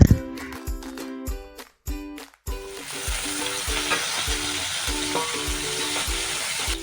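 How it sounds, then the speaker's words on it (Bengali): Onion and tomato frying in hot oil in a wok, a steady loud sizzle with scraping stirs and tapping of a spatula early on, then continuous crackling, no voices. "এবার প্রথমেই আগে থেকে কেটে রাখা পেঁয়াজ আর টমেটো দিয়ে ভালো মতো ভাজতে হবে।"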